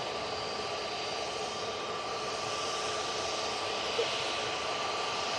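Jet2 Airbus A321 airliner taxiing out at Manchester Airport, a steady distant jet engine whine and broadband hum held evenly throughout, moderately faint.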